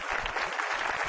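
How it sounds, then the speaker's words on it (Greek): A studio audience on a Greek game show breaks into brief, dense, steady applause, loud and close, with no talk over it. "ένα θερμό χειροκρότημα"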